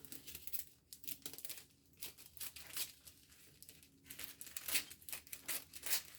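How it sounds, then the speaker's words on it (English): Clear plastic wrap being cut and torn off a roll, a close, soft run of crinkling, rustling and tearing bursts in irregular rhythm, fairly quiet and without talk. "I'm just using clear wrap to make this."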